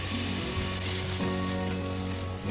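Dried beef sizzling and frying in a pan with golden-browned garlic while being stirred, a steady close hiss with a faint scrape of stirring and no talk.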